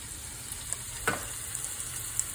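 Onions for chili sizzle quietly in a pan, a faint steady frying hiss with a single soft utensil scrape near the middle, and no voices.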